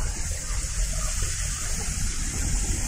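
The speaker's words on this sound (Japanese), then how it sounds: "川があるんで、川っていうか滝が流れてるんで" A waterfall in a shaded outdoor training spot pours with a steady, broadband rush that stays constant and fairly loud throughout, with no voices.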